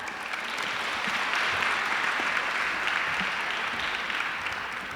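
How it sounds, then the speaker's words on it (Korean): A university admissions-information audience applauds as a professor is called up, a steady, dense wash of clapping from many hands lasting several seconds. "여러분 박수 부탁드립니다."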